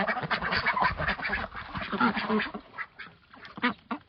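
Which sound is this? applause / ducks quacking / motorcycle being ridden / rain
ducks quacking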